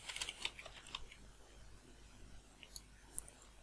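A password is typed on a computer keyboard: quiet, quick key clicks bunched at the start, then a few scattered taps in a hushed room.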